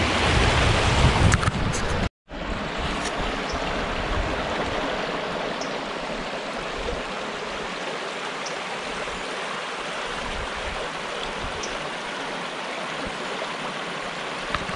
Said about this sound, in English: hearing the sound of that run of water makes me have to pee